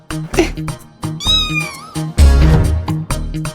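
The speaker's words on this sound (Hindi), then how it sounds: "लगता है वो नकचड़ी बिल्ली आज फिर आ गई है।" A fussy stray cat meows once with a rising, wavering cry near the middle, set among music and dramatic background sounds in an animated scene.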